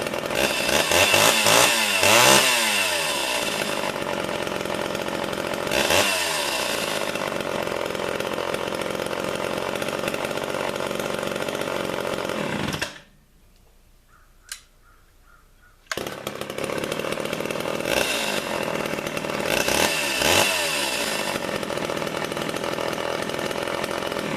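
A Homelite Big Red chainsaw roars loudly, revving up and down in repeated bursts, drops to near silence for a few seconds with a brief pull, then roars back to full throttle.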